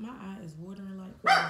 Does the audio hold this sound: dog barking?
yes